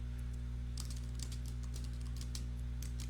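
Typing on a computer keyboard, a run of quick, light key clicks that starts a moment in and continues irregularly over a steady low hum in a quiet room.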